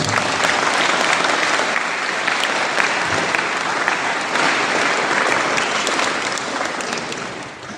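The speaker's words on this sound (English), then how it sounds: "give a round of applause, please" Steady applause from an audience, loud and continuous throughout, with no pauses or talking on top.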